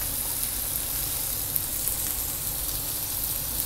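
Tomatoes dropped into a hot pan for Kerala-style prawns with mango, giving a loud, steady sizzle and frying hiss that runs evenly throughout with no talking.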